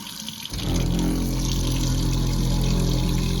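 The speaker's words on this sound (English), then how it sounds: "a rain catchment system, 500-gallon tank, and then a on-demand pressure pump" A 12-volt on-demand pressure pump kicks on in a cabin's rain catchment water system with a 500-gallon tank in Alaska, then runs as a steady, dense whir and rush of water.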